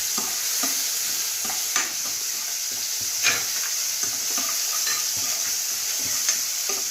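Spices with fennel seeds sizzle and fry in a pan as ripe mango curry is prepared, a steady hiss broken by occasional soft scrapes and clinks of stirring, with no talking.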